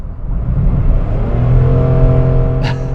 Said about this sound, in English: just want to see what the engine does whenever I give it some gas with the air conditioning system on